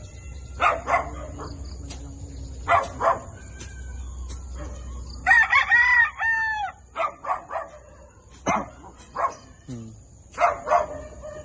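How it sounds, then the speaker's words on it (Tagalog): A rooster crows loudly several times nearby, with clucking and a dog barking in between. "Ang manok."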